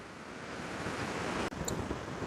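Sea waves wash onto the shore at Hibiscus Beach Hotel in Sri Lanka, a steady, broad surf hiss mixed with light wind, with no other sounds.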